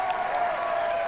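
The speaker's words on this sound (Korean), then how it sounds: "손뼉 소리가 터져 나왔다" A storytelling audience claps after the teller's bow in a Joseon-era folktale drama, steady crowd applause filling the whole moment, dense and even with no single claps standing out.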